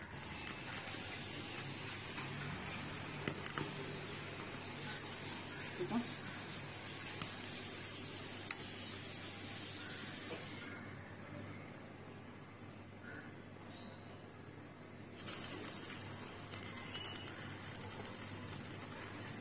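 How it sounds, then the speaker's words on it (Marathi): A gas stove burner turned on, a steady broad hiss that cuts out midway for a few seconds and then resumes, with someone speaking at times. "तोपर्यंत मी इथे गॅस चालू करते"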